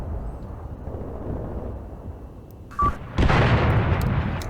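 A heavy artillery strike lands in the World War II tactics game Graviteam Tactics Mius, starting as a distant muffled rumble and swelling into a loud, sustained roar of blasts with no voices.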